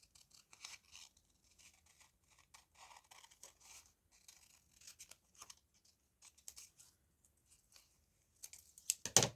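Scissors snip away excess bits from a paper collage, a run of quick, crisp, close cuts and light paper rustles, ending in a louder final snip.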